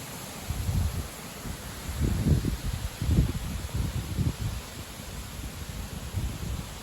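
Strong gusts near 80 km/h sweep through tree foliage outdoors, with repeated low rustling surges rising and fading every second or so over a constant windy hiss.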